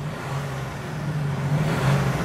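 A deep IVECO S-WAY 460 truck engine idles with a low steady hum, then rises slightly in a brief rev near the end, close and alone.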